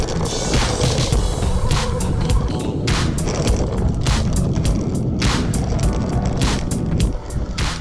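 A Miles Rampage electric skateboard rolls over rough ground with a steady, loud rumble and repeated sharp clacks and jolts as the wheels hit bumps, up close throughout.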